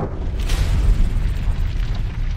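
A deep, sustained rumbling roar of an explosion on Venus, loud and heavy throughout, with no voices.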